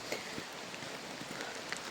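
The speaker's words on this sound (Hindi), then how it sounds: "बारिश शुरू हो चुकी है" Rain falls steadily outdoors, a faint continuous patter with scattered drop ticks on nearby surfaces, soft and even throughout.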